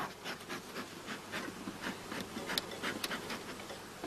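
Honey bees buzz steadily around a hive being fed solid granulated blossom honey, a close, continuous droning hum with small swells as individual bees pass, and no voices.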